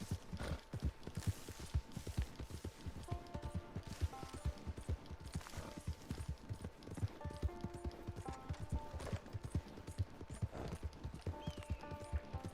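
Steady clip-clop of horse hooves at a brisk trotting rhythm in Red Dead Redemption 2, with game music tones layered over the continuous hoofbeats.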